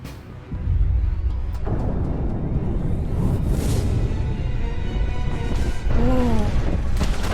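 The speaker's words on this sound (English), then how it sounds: "That was a pretty big explosion." A large explosion destroys a facility in the Mass Effect 2 video game, a loud sustained roar and rumble with crashing debris that holds at full strength for several seconds before a whooshing, warbling tail.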